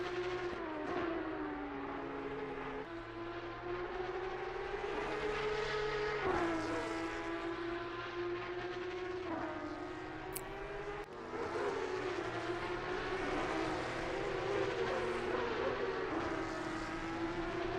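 A Porsche Cup race car engine in a VR sim racing game drones loudly and continuously, its pitch rising through each gear and dropping sharply at every shift.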